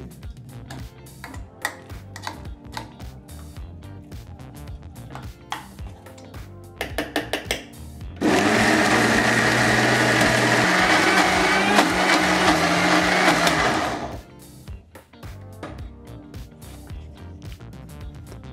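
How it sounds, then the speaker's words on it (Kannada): A mixer grinder runs loud and steady for about six seconds, grinding godu khara red chili paste with a little water, between quieter clattering handling sounds before and after. "ಸ್ವಲ್ಪನೇ ಸ್ವಲ್ಪ ನೀರನ್ನು ಸೇರಿಸಿ ನಾವು ಮತ್ತೆ ಇನ್ನು ಮಿಕ್ಕಿದಂಥ 25 ಭಾಗದಷ್ಟು ರುಬ್ಕೊಳ್ತೀವಿ"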